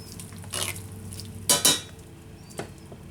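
Cooked al dente spaghetti dropped into a pan of shrimp scampi, heard as a few soft clatters and scrapes of a utensil against the pan, with a faint sizzle between them, close and quiet.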